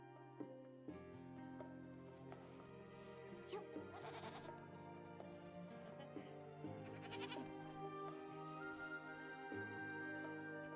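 Sheep bleat in the video game Infinity Nikki, a few distinct animal calls standing out over a steady, busy layer of game music.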